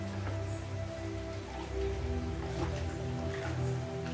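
Steady rain falls on an outdoor apiary, a continuous even patter and hiss with faint dripping, moderately loud and without speech, under a low constant hum.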